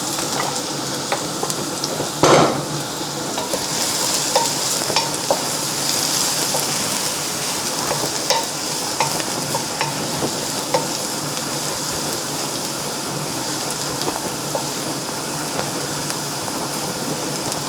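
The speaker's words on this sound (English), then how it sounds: "So fry your garlic first." Garlic browning fast in oil over very high heat, a loud, continuous crackling sizzle heard up close for a long stretch, with occasional sharper pops and spatula scrapes and no talking.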